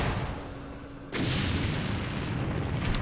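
Pre-programmed artillery fire in the war game Campaign Series Middle East arrives as a sudden loud boom that gives way to a long, dense rumbling roar of impacts continuing to the end, with no talking.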